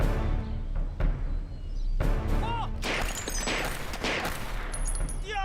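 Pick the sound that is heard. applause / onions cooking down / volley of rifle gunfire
volley of rifle gunfire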